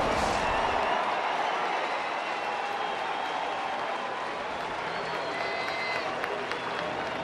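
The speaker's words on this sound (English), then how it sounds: "So a nice round of applause for Paulie." Crowd applause at a baseball game, a steady broadband wash of clapping and crowd noise holding at an even level throughout, loud and sustained with a faint voice mixed in.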